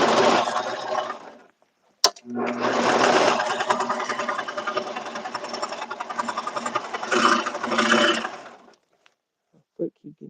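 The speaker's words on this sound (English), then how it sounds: "I want to sew the seams together." A sewing machine stitches suit seams together in two long runs, a close, steady mechanical whir broken by a short pause and a sharp click, and then it stops briefly, with a voice speaking faintly afterward.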